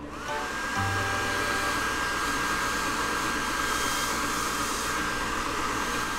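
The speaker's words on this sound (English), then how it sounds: "He's having fun drying his hands under the automatic dryer." An automatic hand dryer in a cartoon bathroom blows continuously, a loud steady rushing whoosh that starts abruptly and holds alone without pause.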